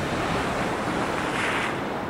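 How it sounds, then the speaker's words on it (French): Large ocean waves crash and churn at night on the shore at Puerto de la Cruz, Tenerife, a loud continuous roar of surf with wind buffeting the microphone throughout. "regardez les vagues, elles sont énormes"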